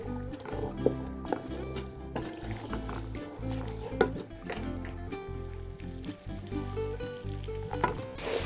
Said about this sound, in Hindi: तो 2 मिनट के लिए आप इसको फ्राई कर लें।